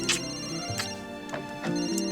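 A telephone ringtone sounds in a dubbed drama scene, with repeated electronic ringing bursts at a steady rhythm, moderately faint and with no one speaking.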